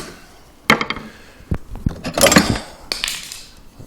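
Old metal files and tools from a barn clatter and scrape as they are picked up and set down, with a few sharp metallic knocks and jangles amid quieter handling.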